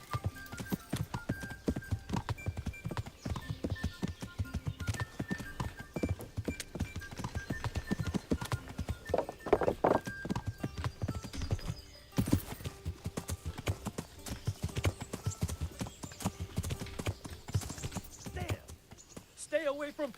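Horse hooves clip-clopping in the medieval game Kingdom Come: Deliverance, a steady rhythmic patter of hoofbeats over a long stretch at moderate distance, with a brief whinny and speech near the end.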